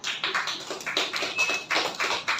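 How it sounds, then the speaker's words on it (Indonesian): Clapping for Miss Rina at a school positive-culture dissemination session, a small group of hands tapping in uneven bursts, fairly close and moderately loud with no voices over it. "Beri tepuk tangan untuk Miss Rina."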